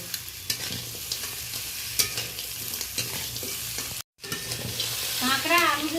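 Crab tossed with pre-fried potato and eggplant while stir-frying, continuous close sizzling with repeated spatula scrapes and clinks against the pan; a brief gap midway, then the sizzle swells louder toward the end.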